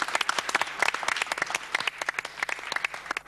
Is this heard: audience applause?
yes